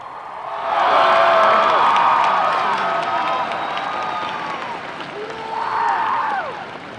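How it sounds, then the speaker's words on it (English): A crowd of parents and graduates at a high school commencement ceremony claps and cheers, with whoops and shouts rising loudly near the start, easing off, then swelling briefly again near the end. "give your parents a round of applause."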